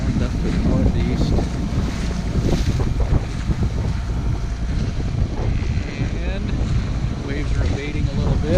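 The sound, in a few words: sailboat crossing Green Bay, Lake Michigan, in wind and waves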